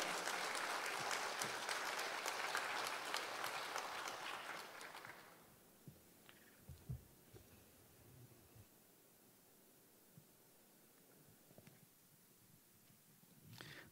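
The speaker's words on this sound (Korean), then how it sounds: "이제 목사님 나오실 때 뜨겁게 박수로 환영하며" A church congregation at an evening revival service claps warmly to welcome the pastor. The loud, dense applause lasts about five seconds, then fades into quiet room noise with a few scattered soft thumps.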